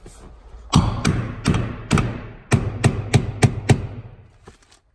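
A sheet-metal transmission tunnel panel on a Lexus IS300 being tapped into place during a manual swap, about ten sharp hammer taps in uneven bursts, close and fairly loud, the later ones quicker and closer together.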